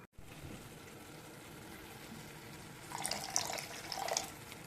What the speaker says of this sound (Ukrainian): В обсмажену засмажку наливаю розсол з квашених помідорів.